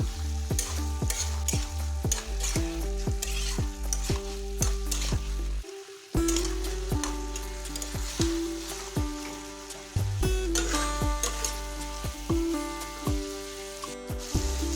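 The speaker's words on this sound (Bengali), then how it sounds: "আর 5 মিনিট ধরে ভালোভাবে ঝিঙেগুলোকে আবার কষিয়ে নিচ্ছি" Ridge gourd pieces are sautéed in a wok for a light rohu fish curry. A spatula scrapes the pan in brisk, repeated strokes over a constant sizzle, with short pauses between bursts of stirring.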